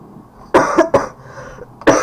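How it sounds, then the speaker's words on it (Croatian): A man coughs several times in short bursts during a multiplayer GTA gaming session, with sharp, loud coughs close to the microphone separated by brief pauses. "to kašljem."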